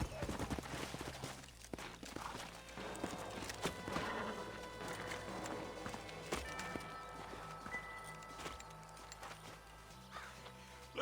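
Horse hooves clop rhythmically across the ground in the Red Dead Redemption video game, steady and close, with an occasional whinny and scattered background effects under faint character dialogue.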